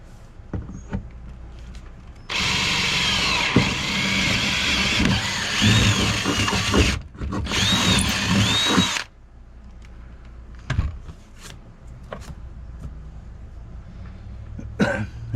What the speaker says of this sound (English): I'm not scared to drill holes in the boat, especially if they serve a purpose.